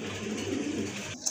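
Pet pigeons at a pigeon sale give soft, low cooing, a brief close murmur with no voices over it.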